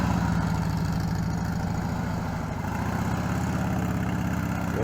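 A police-style motorcycle engine runs at a steady, low throbbing idle-to-light-throttle level while the rider weaves through an offset cone course, with the engine heard continuously and fairly close.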